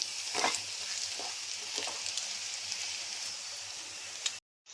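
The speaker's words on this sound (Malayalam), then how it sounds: "നമ്മുടെ സോസേജൊക്കെ മൂത്ത് വരാൻ തുടങ്ങിയിട്ടുണ്ട്. ഇടയ്ക്കിടയ്ക്ക് ഒന്ന് ജസ്റ്റ് ഇളക്കി കൊടുത്താൽ അത് പെട്ടെന്ന് റെഡിയായി വരും." Sausages frying in hot oil while being stirred, a steady close crackling sizzle with a few scraping spatula strokes, cutting off abruptly near the end.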